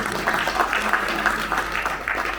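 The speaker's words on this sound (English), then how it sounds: "Big round of applause for Taru." Audience applauding at a conference session, a steady wash of clapping from a seated crowd, fairly loud and continuous without speech.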